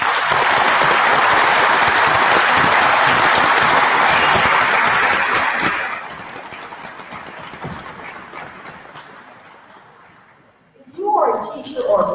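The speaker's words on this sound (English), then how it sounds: "have a round of applause for our students" An audience at a county celebration-of-excellence ceremony applauds its students. The clapping is loud, full and sustained for about six seconds, then thins to scattered claps that fade, and a voice begins near the end.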